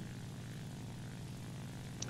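Steady drone of a P-47 fighter's piston engine and propeller in a War Thunder air battle, a continuous low hum holding at even level throughout with no talk.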